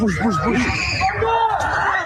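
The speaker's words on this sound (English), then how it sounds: "You can hear the screaming, people scrambling for the exit as the flames rip through the confined spaces of the bar" People screaming inside a burning bar, high, wavering shrieks and frantic crowd noise, loud and chaotic throughout with overlapping voices.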